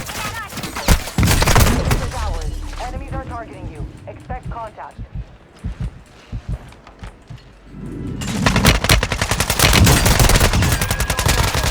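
Rapid bursts of automatic gunfire from Call of Duty Warzone 2.0, loud and dense, with a calmer stretch in the middle where someone talks before heavy firing resumes near the end.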